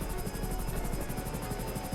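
Hunter attack helicopter flying in GTA Online: a loud, steady rotor thump with a continuous turbine whine, heard close and alone.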